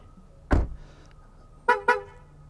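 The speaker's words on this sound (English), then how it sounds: "it also beeps when you walk away because it has the auto lock" A single thud is followed a moment later by two quick, short horn chirps from a Ford Mustang Mach-E GT auto-locking, clear against a quiet background.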